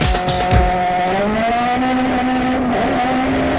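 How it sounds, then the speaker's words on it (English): Mazda 3 touring race car from Tri-Point Motorsports driving hard on track, its engine holding a loud, steady high-revving drone with a brief tire squeal or shift near the start, close and without talk. "rookie Eric Foss behind the wheel of the new Mazda 3"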